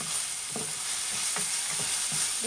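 Cooking oil heating in a pan before frying korokke croquettes, a steady bright hiss with faint soft bubbling and occasional stirring taps, close and continuous.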